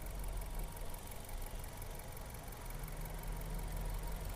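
The petrol engine of a 2017 Maruti Swift VXI with 65,000 km idles steadily with a smooth, even low rumble and no talking.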